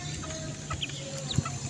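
Backyard chickens raised at home cluck softly in short, scattered calls against a quiet farmyard background, with one slightly louder cluck near the end.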